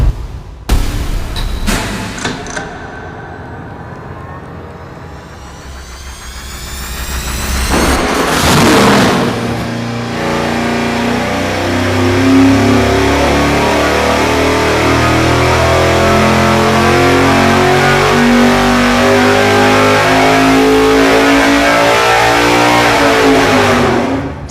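An engine revs hard on a dyno during a baseline pull, with a few sharp blips at the start before a long, loud, sustained roar that climbs steadily in pitch and holds near full volume.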